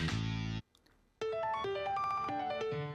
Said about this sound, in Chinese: 搞砸的声音